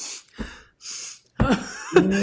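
A couple of rough coughs and throat-clearing sounds, close up, with breathy noises between them.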